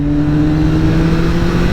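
A car in launch control mode roars loudly and close as it prepares to accelerate hard, its engine holding a steady, strained, high-revving drone with no talking.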